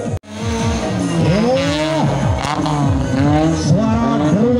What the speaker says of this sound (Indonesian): Suara geruman mesin. Tenaganya pasti super kencang.